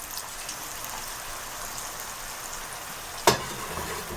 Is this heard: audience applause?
no